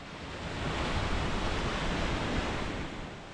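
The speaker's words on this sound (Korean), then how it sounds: "거친 소리를 내며 떨어지는 작은 폭포가 나타납니다" A small waterfall of glacial meltwater from the Eiger pours over rocks in a rugged Swiss canyon, a steady, dense rushing roar that swells slightly and then holds.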